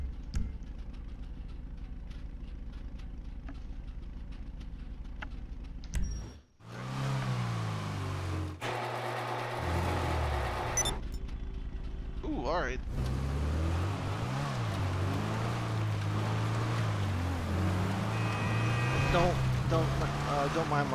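Engine of a Bravado Dorado car in a video game drones steadily and loudly throughout, shifting pitch as it drives, with a brief dip early on and another voice or game sounds layered over parts of it.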